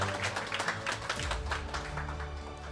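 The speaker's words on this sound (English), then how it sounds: "One more round of applause for everyone." An audience applauds at a startup pitching competition in Hong Kong, many hands clapping together in a fairly close, even patter that holds steady throughout.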